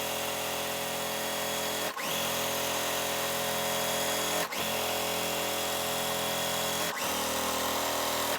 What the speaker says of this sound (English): I'm just gonna sew 1/4 inch away from the center.